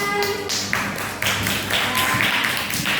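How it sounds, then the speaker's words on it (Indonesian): Classroom of students clapping together during a maths lesson, a brisk burst of dense hand claps that carries on steadily and fairly loud, with some voices underneath. "Tepuk tangan."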